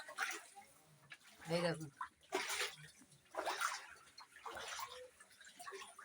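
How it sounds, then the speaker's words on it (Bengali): Knee-deep floodwater standing inside a flooded house sloshes and splashes in several close bursts as someone wades, with a person talking over it. "দেখো ঘরে জল, দেখো কত করে জল, এক হাঁটু করে"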